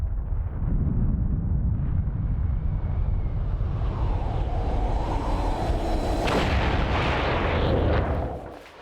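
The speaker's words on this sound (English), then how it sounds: "On the 12th of August, the Soviets also explode an H-bomb." Soviet H-bomb explosion: a long, loud, continuous rumbling roar that swells into deep thundering and then fades away at the end.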